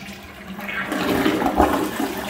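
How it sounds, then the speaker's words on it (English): Toilet flushing in a house bathroom with corrosion around the plumbing: a close rushing, gurgling swirl of water that swells over about two seconds, heard alone. "toilet flush"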